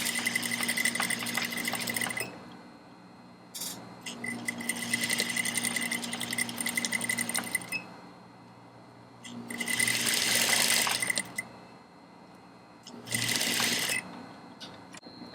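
An industrial sewing machine stitches a corset in several loud, steady runs of rapid needle clatter, separated by short pauses and a brief burst near the end.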